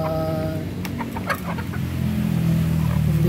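Upgraded native chickens, some of them laying hens about a year old, cluck loudly and close by, with a few sharp calls over a steady low background hum.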